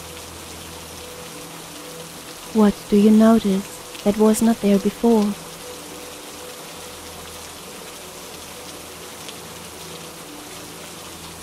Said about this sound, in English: allowing only the sound of the rain and the perfume of the natural world into your brain